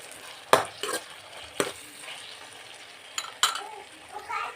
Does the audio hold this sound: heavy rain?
no